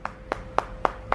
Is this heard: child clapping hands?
yes